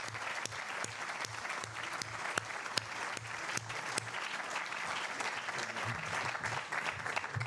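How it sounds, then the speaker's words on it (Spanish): Sustained clapping from an audience at a talk, even and moderately loud, with a low background hum and occasional sharper individual claps standing out. "así que yo lo único antes de partir es pedirle un gran aplauso a Antonio,"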